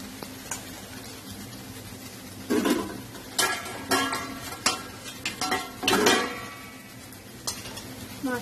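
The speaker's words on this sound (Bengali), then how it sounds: "এবার এতে দিয়ে দেবো ভেজে রাখা মাছ।" Fried fish goes into a pan of sizzling maurola fish jhaal sauce and is stirred. A low sizzle runs under several bursts of spoon-on-pan scraping and clinks, close and irregular, with no voices.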